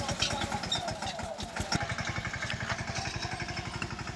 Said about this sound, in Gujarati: મિની ટ્રેક્ટરથી ખેડ કરવી પડે છે